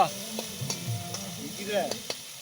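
Spice masala sautéing in a pan gives a soft sizzle with intermittent scraping and stirring clatters from a utensil, close by and fairly quiet.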